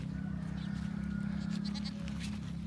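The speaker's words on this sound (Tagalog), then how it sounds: "Dito may makikita tayong kambing" Goats bleat repeatedly beside a nearly dry riverbank, several wavering calls close by over a low steady background.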